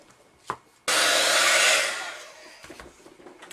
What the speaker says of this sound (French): Donc je vais chauffer au pistolet à chaud.